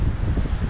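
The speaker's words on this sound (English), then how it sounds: "it's really windy already" Strong wind blowing steadily across an open tropical island setting, a loud broadband rush with gusty rumble close to the microphone and no voices.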